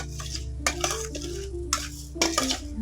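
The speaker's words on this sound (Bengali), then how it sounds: "এটা খুব অল্প আছে ভাজতে হবে নাহলে চাল ভাজা বা মুড়ি হয়ে যাবে শুধু হালকা করে নেড়ে নেয়া" Gobindobhog rice grains are stirred lightly in a dry pan, giving scraping, rattling bursts with a soft sizzle underneath.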